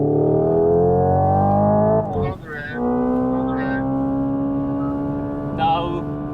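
A 2024 Hyundai IONIQ 5 N electric car driving with N torque distribution and a synthetic engine note: a loud, steady droning tone with rising pitch, dipping briefly as if shifting, with short talk over it.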